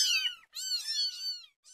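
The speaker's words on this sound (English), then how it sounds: "I got him a kitten." A kitten meows in repeated high, bright calls, close and clear: a long meow, a short pause, then a second drawn-out cry and a brief third one starting at the end.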